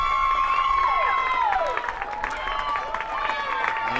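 A crowd of Humboldt and Wichita-Independent fans cheering and whistling at a high school baseball quarterfinal before the first pitch, steady distant roar with sharp whistles rising and falling, heard under a commentator's voice.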